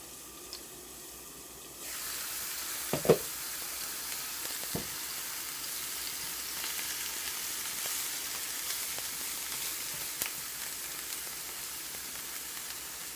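Steak sizzles in a hot frying pan, a steady bright hiss that starts after a quiet couple of seconds and carries on, with occasional clicks and taps of a utensil against the pan.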